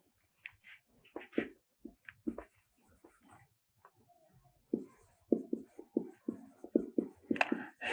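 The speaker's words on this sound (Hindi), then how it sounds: "तो लिखेंगे" Chalk taps and scratches on a board during a Class 10 maths lesson, quick strokes in uneven bursts, close and fairly loud, with pauses between lines and no voice over them.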